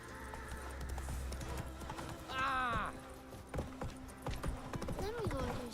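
Roach, a horse in The Witcher 3 game, with quick rhythmic hoofbeats under talk, a short whinny partway through, and a steady gallop continuing to the end.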